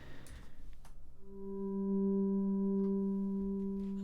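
A PX7 synthesizer playing the Dream's End pad preset: a sustained, bleak tone swells in after a soft attack and holds steady, rich in layered harmonics, loud and alone with no talk.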